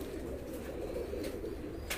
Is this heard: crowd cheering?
no